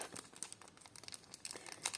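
A small plastic packet crinkles and rustles as it is unwrapped during a parcel unboxing of vintage jewellery, with quiet, irregular bursts of close crackling and no talk.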